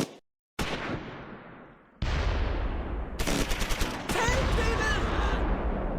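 Bursts of machine-gun crossfire and rifle shots in the Close Combat 4 war game, Battle of the Bulge at Esch-sur-Sûre, with dense rattling volleys and a heavy low rumble, growing louder and more continuous after a brief silence near the start.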